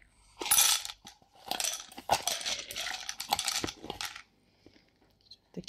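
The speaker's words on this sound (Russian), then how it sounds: "при нажатии вот такие вот маленькие кубики получаются" Small ice cubes popping out of a silicone ice mould when pressed, a quick run of crisp clicks and cracking snaps, close and fairly quiet, trailing off into near silence.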